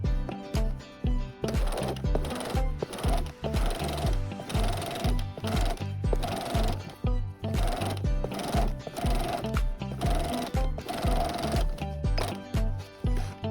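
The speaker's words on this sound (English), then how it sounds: "sew a top stitch about 3/4 inch from the edge all the way around" A sewing machine runs a top stitch around the edge of a fabric jar cover, its needle chattering in a fast, steady mechanical rhythm with brief pauses, loud and close throughout.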